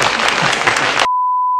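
Applause sound effect from the Tom and Jerry mobile game: about a second of dense, bright clapping, then an abrupt cut to silence ending in a steady electronic tone.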